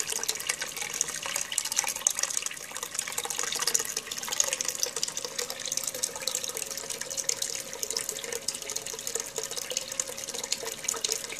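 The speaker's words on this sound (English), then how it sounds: "Probably have a little bit more water flow, but I'm kind of limited here." Water runs steadily over paydirt and drains into a catch pan, a continuous close splashing trickle with a limited, even flow throughout.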